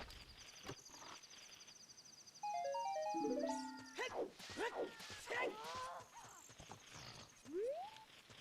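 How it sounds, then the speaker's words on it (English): Horse in Zelda: Ocarina of Time giving odd, breathy gasping whinnies, with rising and falling cries between chiming, ringing game effects and short thumps, all fairly close and clear. "I don't like that my horse is making weird, like, child gasping noises"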